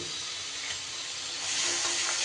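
Spices, salt and tomato water fry in a pan for a Bengali vegetarian dish, giving a steady, close sizzling hiss that swells a little louder toward the end, with no talking.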